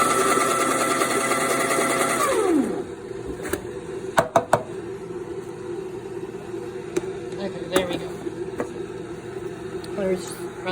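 A coffee grinder grinding beans, loud steady whir for a couple of seconds that winds down, followed by quieter rattles, taps and a low hum while a person talks.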